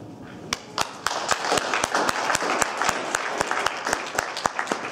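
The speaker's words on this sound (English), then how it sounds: "Can we give another round of applause for all of the really great" Audience applause at a study-abroad reflection on Sierra Leone, a steady wash of many hands clapping with sharp individual claps standing out, moderately loud and continuous throughout.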